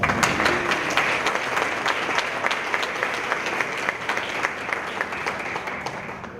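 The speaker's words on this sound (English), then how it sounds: "If you can give them a round of applause." An audience at a town hall meeting applauds teachers, with steady, dense clapping that stays fairly even throughout, moderately loud and then tapering slightly at the end.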